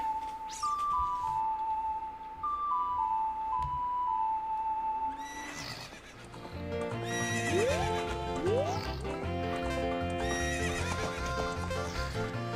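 Epona, the horse in Ocarina of Time, whinnies twice in the game audio over light music, then canters off with a steady clip-clop of hooves and a few more whinnies, loud and close throughout.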